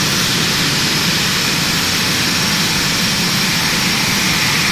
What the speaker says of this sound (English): I guess we are clear for takeoff, folks.